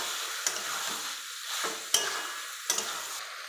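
Meat mixed with boiled green peas and potatoes being stirred in a pan for mangsher ghugni, a steady close sizzle broken by three sharp spatula scrapes at a fairly even rhythm.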